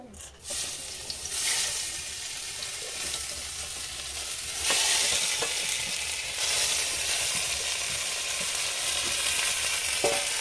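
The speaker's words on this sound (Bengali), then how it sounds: "তেলটা গরম হয়ে গেছে এবারে দিয়ে দেবো ধুয়ে রাখা সোনামুগের ডাল" Washed golden moong dal hits hot oil in a wok and is stirred, giving a continuous close sizzle with occasional scraping, growing louder partway through and holding steady.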